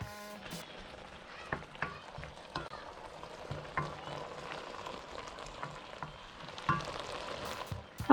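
Thin zucchini slices frying on high heat for a Korean side dish, a soft crackling sizzle with occasional clicks and spatula taps, fairly quiet and close.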